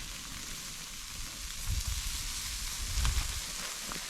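Steak sizzling in a pan at a holiday park campsite, a steady crackling hiss with a couple of louder spitting bursts, fairly quiet and with no talking.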